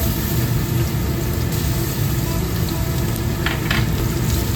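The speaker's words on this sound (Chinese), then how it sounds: "倒入蒜米炒香鲜" Minced garlic stir-frying in hot oil in a wok, a steady loud sizzle with continuous crackle throughout and a few brief scraping stirs near the end.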